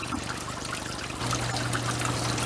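Water pours and trickles steadily into a glass aquarium tank as it is refilled after cleaning, a continuous close hiss that gets slightly louder and fuller partway through, with no talk.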